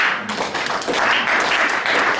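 A church congregation applauds during a Christmas sermon, a dense, continuous wash of clapping filling the room at close range.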